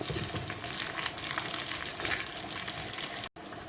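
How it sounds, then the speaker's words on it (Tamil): Onions sautéing in oil in a clay pot for a fish curry, a steady, crackling sizzle with bursts of spitting and occasional stirring, close and continuous with a brief dropout near the end. "நல்லா வதக்கி விட்டுடலாம்."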